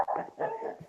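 An excited dog gives a short, whiny yelping vocal burst, two close, fairly loud cries in under a second.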